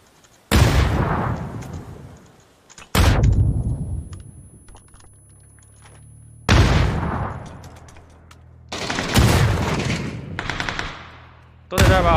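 Automatic gunfire in a team-based shooter video game: several long, loud bursts of rapid shots, each decaying into a tail of reverb, separated by short near-silent gaps.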